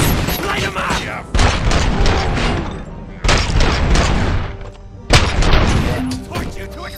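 Gunfire in the video game RoboCop Rogue City, heavy rapid bursts of shots and booms in several loud waves separated by short drops, with voices shouting among them.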